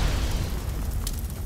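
Explosion in a competitive scrim match of a shooter video game: a deep, loud, rumbling boom that fills the whole moment with dense low-end roar and no voices.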